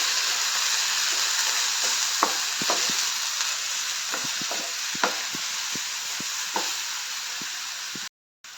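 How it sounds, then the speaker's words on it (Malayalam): Ground coconut paste is stirred into ivy gourd kichadi in a pan, with a constant sizzling hiss and a run of soft, irregular scrapes and taps from the spoon, close by, ending in a brief silence. "ഇനി എല്ലാം കൂടി നല്ലപോലെ മിക്സ് ചെയ്ത് കൊടുക്കണം."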